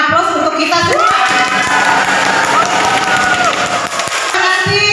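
A seated audience at a teacher-training presentation breaks into loud, steady applause with many hands clapping together, sustained for several seconds and close enough to fill the room, with a voice briefly audible alongside it.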